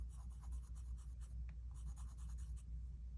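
A fountain pen scratches across paper in quick, faint strokes with a squeaky, scratchy texture, recorded close against a low background hum.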